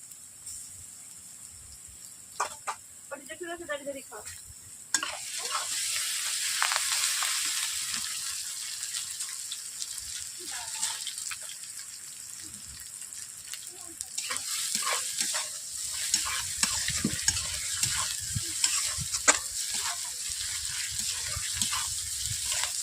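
Onion with ginger-garlic paste frying and being stirred in a pan for a cauliflower and fish-head curry, a soft steady sizzle with scattered scraping clinks of the spoon, quieter at first and fuller after a few seconds.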